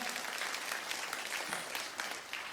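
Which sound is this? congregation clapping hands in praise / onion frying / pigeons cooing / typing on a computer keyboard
congregation clapping hands in praise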